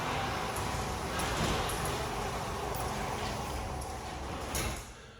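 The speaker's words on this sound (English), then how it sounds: "let's let the garage door close" A garage door closing gives a steady mechanical rumble with light rattles, holding level for several seconds before tapering off near the end.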